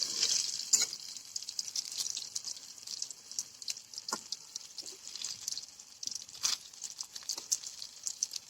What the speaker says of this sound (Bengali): এরপর বেগুনগুলো আমি উল্টে নেব, কারণ বেগুনগুলো ভাজা হয়ে এসছে